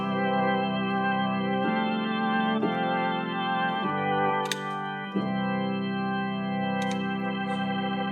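A sustained Nord Stage 3 organ chord played through a rotary speaker shifts through several changes with a swirling, shimmering gospel tone. It plays steadily and moderately loud, with a few clicks on top.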